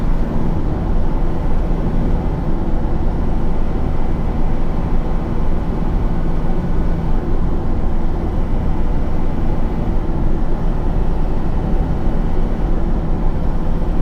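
Steady, loud drone of a Mitsubishi Fuso Canter B85 truck engine at 2500 rpm in fifth gear, cruising at 80 km/h, a continuous low rumble with road noise and no clear speech.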